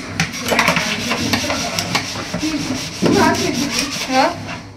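Cooking pots being scrubbed by hand, a steady harsh rubbing and scraping close by with occasional metallic clinks of the vessels, continuous throughout.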